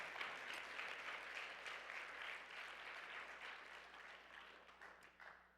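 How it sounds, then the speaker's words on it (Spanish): A church congregation claps together in sustained applause for the Lord during a service, a faint, far-off wash of many hands that slowly thins toward the end. "Démosle un aplauso al Señor porque están muy callados"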